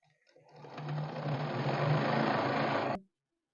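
Sewing machine stitching fabric pockets, one steady close whirring run of about two seconds that ramps up and stops abruptly, with no talking.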